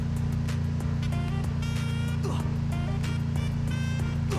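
A vehicle engine driving fast in the Free Fire video game, a continuous droning hum with steady low rumble and occasional higher game effects layered over it.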